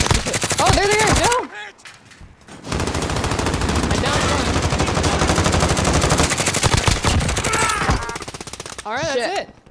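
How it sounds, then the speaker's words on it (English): Gunfire in the Warzone battle royale video game, with dense rapid automatic bursts running loud for several seconds, while players talk excitedly before and after the shooting. "Something else is shooting at me, dude."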